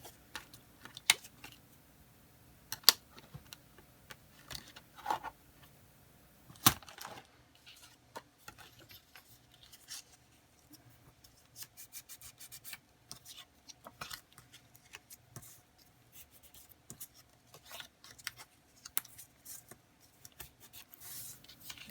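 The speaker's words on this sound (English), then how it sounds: "So folding and preparing the ephemera." Paper ephemera being folded and prepared for a scrapbook, with soft scattered rustles, creases and small taps, faint and close, spaced irregularly with quiet gaps between them.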